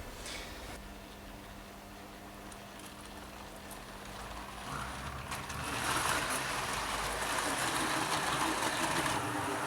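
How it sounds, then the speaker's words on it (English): A Triang 159 double-ended diesel model train runs on a layout with a low, steady motor whir and rail rumble that grows louder and brighter partway through as the train draws nearer. "it's the Triang 159, which is known as the double-ended diesel"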